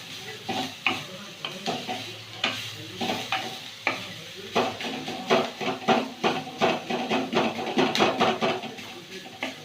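Oats khichdi being stirred and fried in a pan: a run of scraping, clattering spoon strokes over a soft sizzle, steady and close, with the strokes coming faster and denser toward the end.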